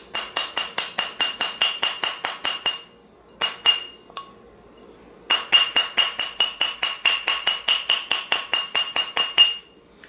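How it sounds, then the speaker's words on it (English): A metal ring band is struck with a hammer on a steel ring mandrel, producing rapid, evenly spaced bright clinks in two long bursts separated by a brief pause, close and loud with no talk. "hammer that seam, and then I'm going to make it round"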